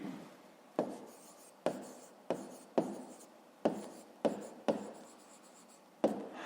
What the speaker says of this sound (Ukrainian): Ну і записуємо.